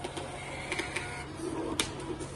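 A thermal receipt printer in a billing machine with a built-in auto cutter, producing soft whirring feed noise with light clicks and a brief sharp cut near the end, faint and close.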